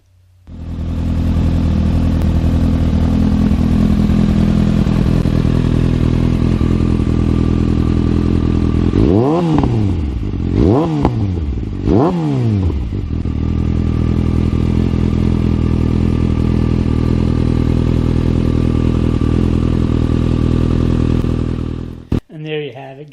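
A 2015 Kawasaki Ninja 636 fitted with a Two Brothers exhaust idles loudly, then gets three sharp rising-and-falling revs about a second apart before settling back to idle and shutting off.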